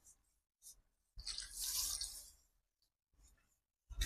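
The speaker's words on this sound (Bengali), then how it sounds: "এবার চিকেনের মধ্যে আমি জল দেবো অল্প একটু।" Water is poured into chicken curry while it cooks in a pan, making a short splashing pour, with a few quieter drips and trickles around it, close and fairly soft.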